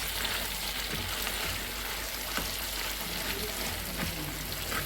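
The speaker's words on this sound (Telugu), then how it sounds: "దీన్ని చక్కగా మొత్తం నూనె కలిసేటట్టు మంచిగా తిప్పుదాం ఇలా" Gongura chutney is stirred in hot oil in a village kitchen, giving a steady, soft sizzle of frying with faint scraping of the spoon throughout.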